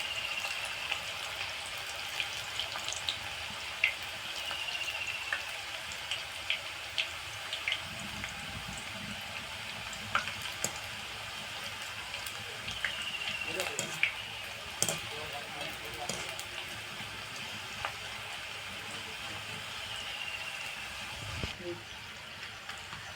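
Banana slices fry for banana chips in oil over a medium flame, giving a steady wet sizzle scattered with small crackling pops that continues without pause.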